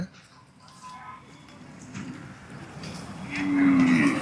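Cattle and calves tethered at a busy livestock market moo, a long low bellow rising near the end over a murmur of background crowd noise and clatter.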